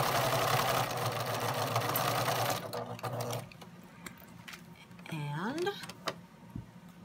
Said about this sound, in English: Now we're gonna sew a quarter inch again